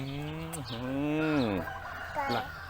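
A chicken gives a drawn-out, rising and falling call, then a shorter squawk, heard close and fairly loud during an outdoor walk.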